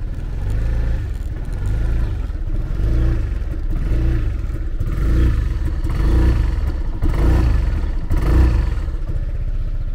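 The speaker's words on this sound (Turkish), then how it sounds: "TCS modu açıkken arkadaşlar gaz verdiğinizde gelen ses bu." A 2023 Sym Joymax Z+ scooter engine throttled with traction control (TCS) mode on, a steady close engine drone with repeated gentle rises and falls in pitch as the throttle is blipped, alone without talk.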